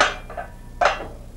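A pan of popcorn is shaken twice, two short rattling bursts with a quiet pause between them.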